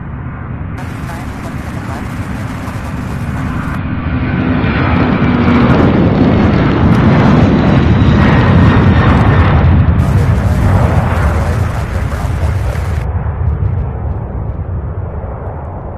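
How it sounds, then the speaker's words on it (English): A loud, sustained roar of jet aircraft engines at Louisville International Airport, swelling and holding for many seconds as a plane powers up or passes nearby. "A lot of aircraft movement."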